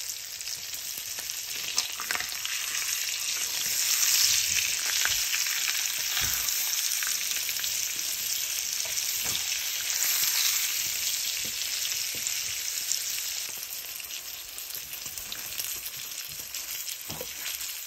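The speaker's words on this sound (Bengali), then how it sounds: "সরষের তেলে ইলিশ ফ্রাই।" A large roe-filled hilsa fish frying in mustard oil, a dense, steady crackling sizzle that swells and eases slightly, with occasional soft clinks, close and alone.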